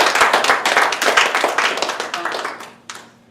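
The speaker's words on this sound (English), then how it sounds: "Please give them a round of applause." Audience clapping for contest participants at a speaking-club gathering, a dense run of sharp handclaps that thins out and fades to a few scattered claps by the end.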